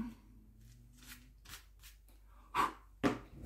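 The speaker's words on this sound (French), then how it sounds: "je vais gommer mon petit repère ici" A rubber eraser rubs out a small pencil mark on a page, giving soft, close, brushing scrapes that end in two louder rubbing strokes.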